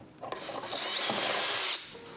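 Power drill boring into material with drill bits while mounting electronic boxes in a car's engine bay, a steady loud whine building and holding for about a second and a half before cutting off.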